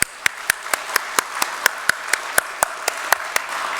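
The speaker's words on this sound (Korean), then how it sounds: "하나님께 영광의 박수 드리겠습니다." Congregation at a New Year's Eve church service clapping in a steady, evenly spaced rhythm of sharp claps, roughly four per second, with soft background murmur.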